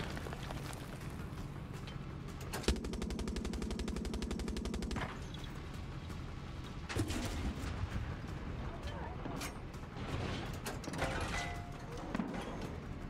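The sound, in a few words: gunfire in the video game Far Cry 6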